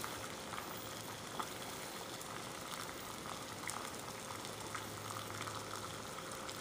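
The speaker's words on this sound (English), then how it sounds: "It just started bubbling." Water coming to a low boil over a homemade alcohol stove made from a tartar sauce holder, a faint, steady bubbling and fizzing hiss that runs on evenly with no voices.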